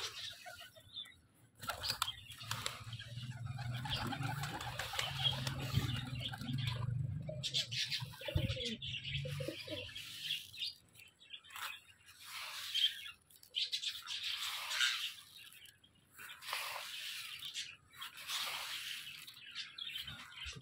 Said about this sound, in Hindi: तो पिजन्स को दाना डालते हैं।